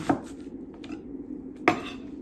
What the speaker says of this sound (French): on va s'occuper maintenant de les détailler en lamelles